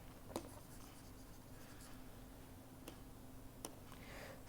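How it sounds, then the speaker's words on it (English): Hand writing in a lecture on combining consonants in the Devanagari script: steady faint scratching strokes with a few sharp taps of the pen or chalk, alone and without speech. "I'll just write that for you again."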